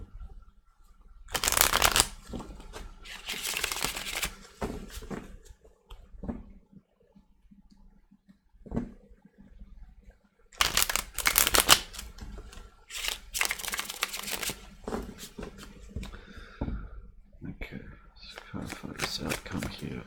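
Tarot cards are shuffled in several loud, riffling bursts separated by pauses, up close, with the cards tapped and handled in between while a person speaks.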